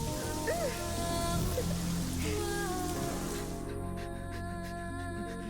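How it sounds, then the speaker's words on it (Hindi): Heavy rain falls steadily in a movie scene, a dense hiss of drops under tonal music and brief vocal sounds, fairly faint overall. "बारिश जोरों से हो रही थी"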